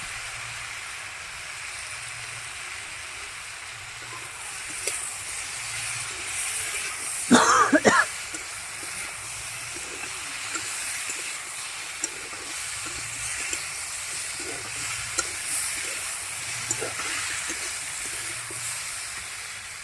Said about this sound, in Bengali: এই লঙ্কা গুঁড়ো দিয়ে দেওয়া হচ্ছে।